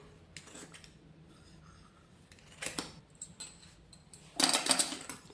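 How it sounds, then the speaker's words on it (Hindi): Scissors cutting blouse fabric for tailoring, heard as a few scattered snips and crisp rustles that grow louder and denser toward the end, with quiet pauses between, no speech. "यहाँ से सीधा ऐसे काट देंगे"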